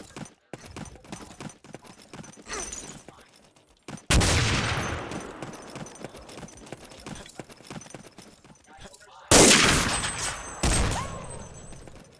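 Grenades exploding and guns firing in a competitive video game match between UKZ and Leftovers, with loud sudden blasts and bursts of rapid shots over clattering action throughout.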